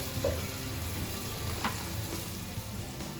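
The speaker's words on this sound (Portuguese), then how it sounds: "Aí a gente coloca primeiro a cebola para o alho não queimar e não ficar amargo. Então, a gente deixa ele fritar um pouquinho aqui." Onion and garlic fry in a pan for a shrimp risotto, giving a steady close sizzle with a few faint stirring scrapes and no talk.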